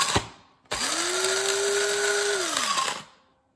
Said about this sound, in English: I don't know how long I'm supposed to grind it for coarsely ground, so I'm just taking this like trial and error.